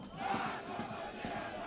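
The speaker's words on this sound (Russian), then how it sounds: "Местные болельщики завели кричалку «Наша победа»" Local football fans at a Belarusian league match between Slutsk and Gomel chanting "Nasha pobeda" in unison, a loud rhythmic stadium crowd chant filling the whole stretch from a distance.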